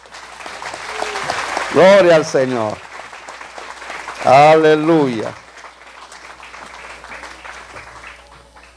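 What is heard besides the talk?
applause from wedding congregation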